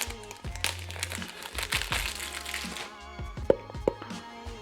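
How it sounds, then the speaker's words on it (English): Plastic wrapping being torn and crinkled off an Acqua di Parma Colonia Intensa fragrance box, close-up rustles and crackles in irregular bursts, with a few sharp snaps near the end. "let's unwrap it and unbox it"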